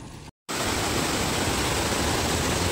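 Water pours steadily from the Siddhnath Dari waterfall near Chunar, Mirzapur, a loud, continuous broadband rush that cuts in abruptly after a brief gap and holds constant and close.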